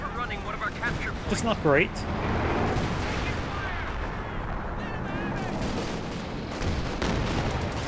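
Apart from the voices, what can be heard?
artillery barrage in Company of Heroes 2 video game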